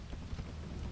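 Steady rain with low rumbling thunder in the video game Lethal Company, a dense continuous wash of noise at even loudness with no voices.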